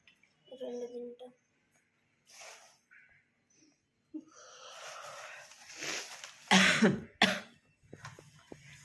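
Several short, harsh coughs and throat clearing at close range, spaced out with quiet gaps and a little talk in between.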